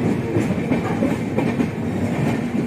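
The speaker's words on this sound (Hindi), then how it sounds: "ट्रेन है" A loaded coal freight train rolls past steadily and close by, its wagons giving a continuous rumbling clickety-clack with no pauses.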